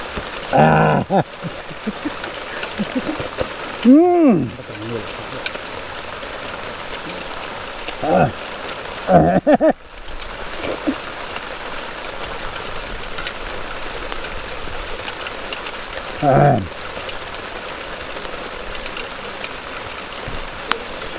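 Rain falling steadily outdoors during a spicy mukbang meal with friends, a constant hiss of drops with occasional louder patters, while voices speak briefly over it.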